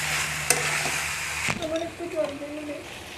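A pan of country chicken curry being stirred and fried, scraping spoon strokes over steady sizzling, with a sharp clank early on and the frying continuing under a voice.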